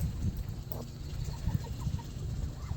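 Chickens cluck and murmur in short, scattered bursts over a steady low rumble of farmyard background noise.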